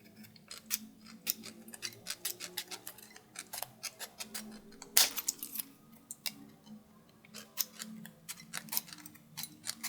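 Swiss Army knife scissors snipping thin tin can metal into small strips, a rapid run of sharp, close clicks and crunchy cuts at an uneven rhythm, quiet and without talk.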